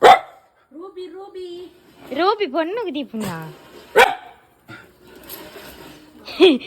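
A dog gives a few short barks, loud and close, scattered between stretches of people talking in a household setting.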